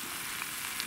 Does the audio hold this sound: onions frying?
yes